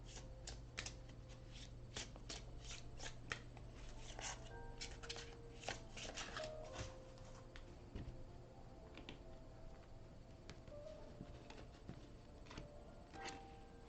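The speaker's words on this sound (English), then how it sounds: "Let's see when it feels right to stop shuffling." Oracle of the Nile oracle cards shuffled by hand, a steady run of quick papery riffling flicks and soft slaps lasting throughout, close and fairly quiet, with no voices.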